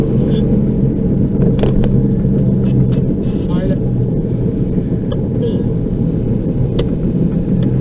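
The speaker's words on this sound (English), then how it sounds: "I'm driving along in a car with a radio that's jumping between stations" A car drives along with a steady, loud low rumble of engine and road noise filling the cabin throughout, with a few faint clicks and crackles over the top.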